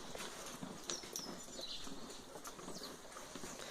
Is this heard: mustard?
no